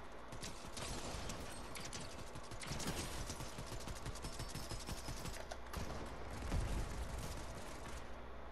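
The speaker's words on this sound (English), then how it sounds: "Ooh, that's gunfire." Dense, rapid gunfire in Fortnite crackles nonstop, with sharper louder shots popping out of the continuous clatter at a middle distance.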